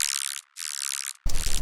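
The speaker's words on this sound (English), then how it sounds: "Then we have a distortion layer underneath." Harsh, buzzy distorted dubstep synth bass tones in short bursts, first thin and high, then a full, gritty distortion layer under a clean sine wave with heavy low end; loud and electronic.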